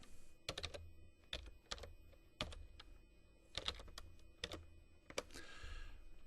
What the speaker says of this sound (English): Click in the Date field and type the date.